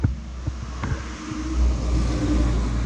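A BMW E39 540i with its resonator and muffler removed on a rainy day in Nova Scotia gives a deep, rumbling exhaust note that swells slightly after a few faint knocks, close and moderately loud.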